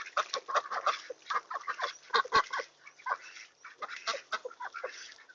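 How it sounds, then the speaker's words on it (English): A flock of farmyard ducks quacks close by in quick, uneven bursts, loud honking calls overlapping one another with brief pauses. "Ah, silly ducks. Every day, it's silly ducks. Silly, silly ducks."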